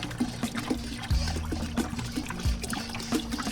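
Water is poured to dilute a chemical mix for pressure washing, heard as a close, steady trickling pour with gurgling glugs and a couple of heavier splashes, alone without talk.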